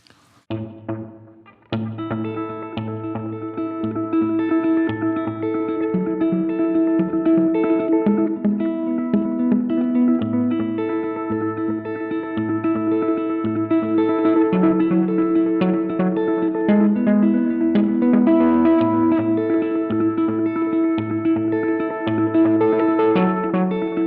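An electric guitar played through a Delay Llama delay pedal on a wet/dry pedalboard rings out sustained chords and notes with echoing repeats and a reverb wash, loud and continuous with no talk.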